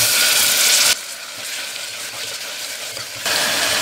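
Onions and tomatoes sautéing for a vegetable kurma give off a loud, continuous frying sizzle that drops back to a quieter hiss in the middle before returning strongly, with no voices.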